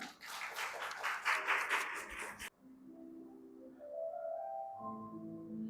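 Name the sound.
audience applause welcoming a reader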